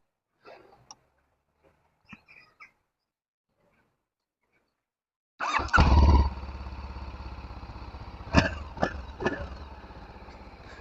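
A Honda VFR800X or Voge 525DSX motorcycle cranks on its electric starter and fires up after a few quiet knocks, settling into a loud, steady idle close by with a couple of sharp revs blipped on top.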